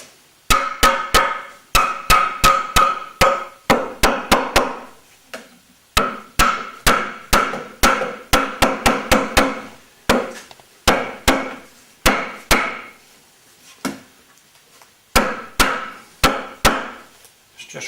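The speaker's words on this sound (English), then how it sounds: "The hammer now." A hammer drives wooden spokes into a wooden wheel during wheel making, with loud, sharp, ringing blows struck in quick runs of three to six and brief pauses between runs, close by and with no talking.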